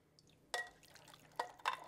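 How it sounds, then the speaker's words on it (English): Watermelon soup is poured over vegetables in a bowl, with a few separate splashing drips and pours standing out against near-silence. "we're just going to pour"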